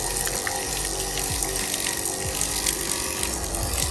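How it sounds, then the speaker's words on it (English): A small electric water pump in the galley plumbing of a DIY square-drop camper runs steadily with a constant mechanical whir and rattle, water gurgling through the lines, loud and close with no talk. "get to the inlet of the pump, and we're hooked up to power, so she should work"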